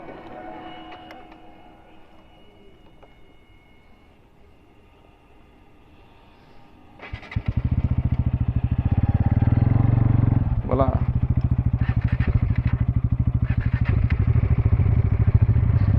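A Bajaj Dominar 400 motorcycle fitted with an Akrapovic exhaust roars to life after a quiet stretch with a brief spoken word, then holds a loud, steady, rumbling rev close by for the rest of the clip.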